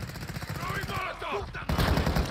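Video game gunfire crackles in bursts beneath radio-style voice chatter, with a louder, sharper burst near the end.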